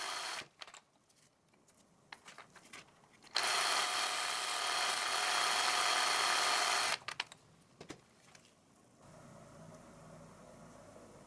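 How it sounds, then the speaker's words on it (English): Power tool chamfering the ends of small metal rods, a loud steady grinding whirr lasting a few seconds, framed by short clicks and handling noises before and after and a quieter hum at the end. "all 6 previously prepared rods can be chamfered quickly with low effort and repeatable"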